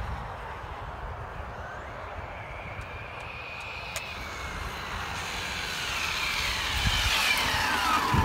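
A Traxxas Slash RC car running on 4S power comes back at speed during a top-speed run. Its steady motor whine grows louder and nearer toward the end, with no voices.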